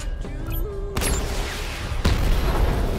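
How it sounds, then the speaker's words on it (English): A missile barrage firing in a video game: a sharp launch boom followed by a rushing roar, then a second heavy burst of explosive rumble, loud and close with no talk. "Missile barrage level 1 ready."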